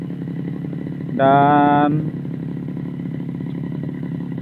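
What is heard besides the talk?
Tiger grass cutter engine warming up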